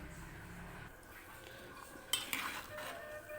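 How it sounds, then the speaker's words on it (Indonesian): A spoon stirs beef intestines stuffed with egg in a pot with coconut milk, producing faint scraping followed by a few brief metallic clinks against the pot, quiet and close. "Kita aduk lagi ya Sana usus kita"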